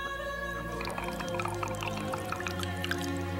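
Liquid trickles and drips in a thin stream as expensive nard perfume is poured out, with fine splashy droplets over a steady low hum and no one talking.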